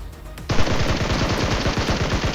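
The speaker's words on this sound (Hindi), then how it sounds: "तभी फायरिंग होती है, मैं पीछे भागता हूँ।" Rapid automatic gunfire erupts suddenly in PUBG Mobile and continues as a loud, dense burst of shots to the end, with no talking.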